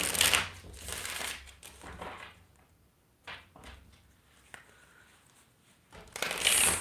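Tarot cards being shuffled up close, with a bursty riffle at the start, quieter papery shuffling and taps in the middle, and another loud flurry of card riffling at the end.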